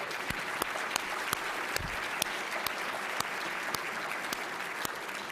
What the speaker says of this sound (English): Can you join me in a round of applause for them?